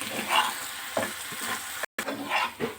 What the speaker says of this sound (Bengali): দিয়ে এটাকে একটু ভালোভাবে এরকমভাবে নেড়ে আরেকটু ভালো করে ভেজে নেব।